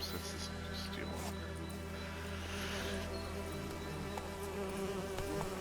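Bees buzzing in The Witcher 3 video game, a continuous droning hum layered with game ambience and background tones, steady and moderately loud throughout.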